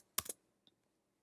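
Two quick, sharp clicks close together, then a single faint click a moment later, close and crisp in an otherwise quiet room, from a computer mouse being double-clicked while editing layers.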